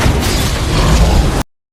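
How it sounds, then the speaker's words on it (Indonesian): A loud, sustained elevator explosion in a film rumbles with deep low-end roar and crackling debris, then cuts off abruptly into silence. "lift pun meledak"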